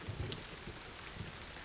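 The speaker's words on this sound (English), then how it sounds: "suddenly it starts to rain heavily." Heavy rain pours down by a roadside on a bike tour in Taiwan, a dense constant hiss with a few low thumps underneath, no voices.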